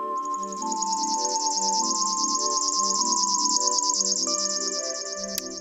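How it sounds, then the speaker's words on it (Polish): River warbler song: a rapid, rhythmic, pulsing buzz like a sewing machine, steady and insistent for several seconds, sitting above soft background music. "i strumieniówka."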